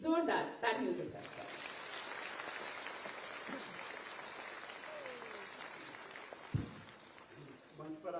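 Audience applause at a Uttar Pradesh rural development department government event, following a speaker's brief voice at the start, then a steady, moderate wash of clapping that fades near the end as talk resumes.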